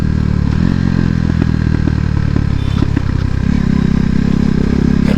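A KTM RC390 motorcycle with its exhaust removed runs loud and close throughout, a raw, rumbling engine note with clattering, crackling texture and steady throttle variation.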